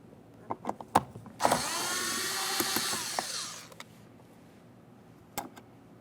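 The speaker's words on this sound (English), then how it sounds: "you're going to find a 7mm headed mounting bolt. Go ahead and remove that." A 7mm mounting bolt is backed out of a 2006-2012 Ford Fusion rear door with a power driver, a close whirring burst of about two seconds between scattered clicks and taps of handling.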